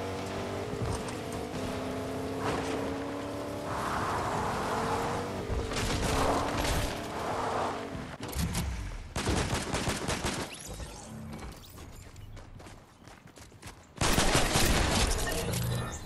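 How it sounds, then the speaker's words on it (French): Gunfire in the Fortnite video game, with scattered bursts of shots and explosive booms mixed with vehicle-like engine drone and other game effects, loud and irregular throughout. "ça tire, c'est normal"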